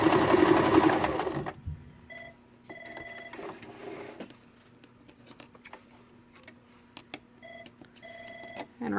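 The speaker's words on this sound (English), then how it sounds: "Even on this really super basic machine, you can get down into like a nice kind of satin stitch type finish." A basic mechanical sewing machine runs a short, dense satin stitch at tension 4 and a short stitch length. A loud, fast burst of stitching opens the sound, followed by quieter stretches with light clicks and faint tonal hums.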